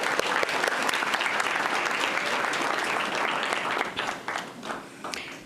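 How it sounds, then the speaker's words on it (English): A school board meeting audience claps for a student athlete. The applause is steady and moderately loud, then breaks into scattered, fading claps in the last seconds. "A round of applause."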